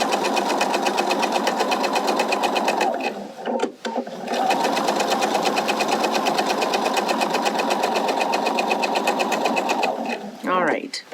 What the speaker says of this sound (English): I'll start right at the fold stitching a 1/4 inch seam allowance